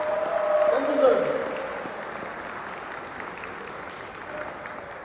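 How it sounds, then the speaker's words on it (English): Audience applause at a talk by the PAI Token CEO, a scattered burst of clapping that swells in the first second or so and then thins, with faint voices over it. "Stand up and give him a round of applause, please."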